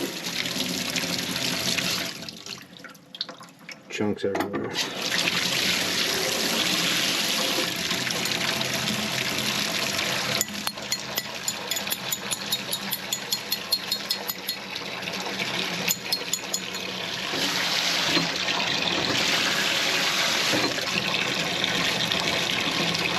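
Water flowing and splashing through an old, neglected, muddy steam boiler, a steady loud rushing trickle throughout, with a brief quieter dip early on and light metallic tapping partway through; a voice speaks briefly.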